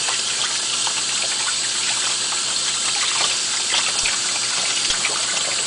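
Water gushes steadily from a tap, rinsing an item just sprayed with diluted antibacterial soap, a close, continuous bright splashing with slight flutters and no pauses.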